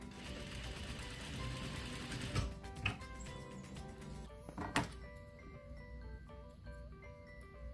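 A sewing machine stitches swimsuit fabric about an eighth of an inch from the edge, running with a fast, steady mechanical whirr and needle ticking, close and fairly quiet, with a few clicks and slowing toward the end.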